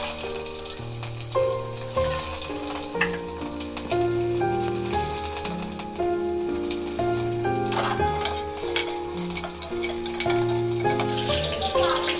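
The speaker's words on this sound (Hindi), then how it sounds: "प्याज को हल्का सा ब्राउन होने देते हैं।" Onions frying in oil in a pan in a home kitchen give a steady, continuous sizzle and crackle throughout, sitting under prominent background music.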